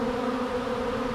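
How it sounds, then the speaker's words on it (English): A dense swarm of honey bees moving into a bee box gives a continuous layered buzzing hum, steady and close, with no talking over it. "That's a hell of a bunch of bees."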